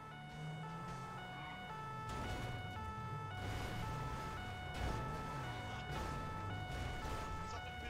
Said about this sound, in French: restez avec les sirènes